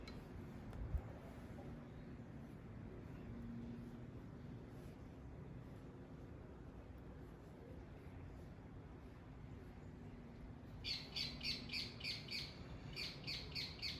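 A small pet bird squawks in a home kitchen, a rapid series of sharp, bright chirping calls in two bursts near the end after a long stretch of quiet room noise.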